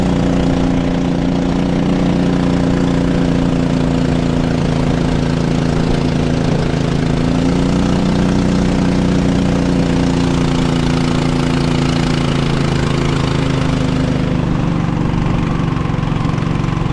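A klotok river boat engine runs on a river in Kalimantan, making a loud, steady, low chugging drone that lasts the whole stretch with no talk over it.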